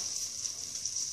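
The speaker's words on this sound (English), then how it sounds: "So you hear that sizzling? That means my pan's a little too hot." Milk fat browning in an overly hot pan gives off a steady, faint sizzle, a continuous hiss with no break and no talking.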